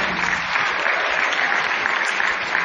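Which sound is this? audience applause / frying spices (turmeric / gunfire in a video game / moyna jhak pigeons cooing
audience applause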